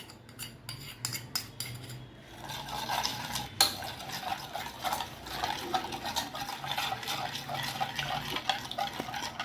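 Whisking a paste of salt, Kashmiri chilli, sesame and green chilli in a pan for til paneer: rapid scraping clinks of a utensil against the pan, soft at first and then steady and busier.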